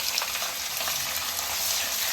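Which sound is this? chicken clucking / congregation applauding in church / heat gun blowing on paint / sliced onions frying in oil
sliced onions frying in oil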